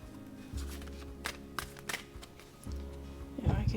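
Tarot cards riffled and shuffled repeatedly in quick bursts, close up, with a soft hum underneath and no talking.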